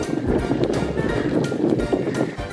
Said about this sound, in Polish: I wiatr wieje znowu.